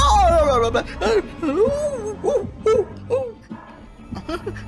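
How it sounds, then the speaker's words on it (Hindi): A dog yelps and whines in a series of high, wavering cries, close by and uneven in rhythm. "अरे भौंकना बंद कर, क्यों बेसुरे सिंगर की तरह गला फाड़ रहा है?"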